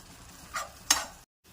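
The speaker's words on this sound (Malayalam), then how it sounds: "നേരത്തെ അരച്ച് പേസ്റ്റ് ഇട്ട് കൊടുക്കാം. ഇതിൻ്റെ ഒരു പച്ചമണമൊക്കെ മാറണം, അതുവരെ ഒന്ന് വഴറ്റി കൊടുക്കാം." Ground masala paste with curry leaves and salt sautéing in a pan for egg curry, a soft sizzle with two brief stirring scrapes, faint and close, then a short moment of silence.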